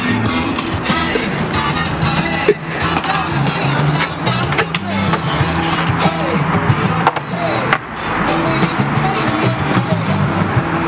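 Skateboard rolling outdoors, a continuous gritty wheel rumble on pavement, loud and close with a few sharp knocks, alongside people talking.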